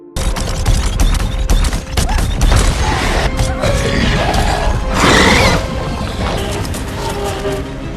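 Loud, dense bursts of gunfire mixed with crashing and mechanical clatter in a film scene of a fight with an alien, a chaotic action-scene barrage with no pauses.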